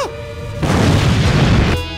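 A mini nuke launcher fires in a Roblox video game, producing one loud, sustained boom with a rumbling roar lasting about a second amid game sounds.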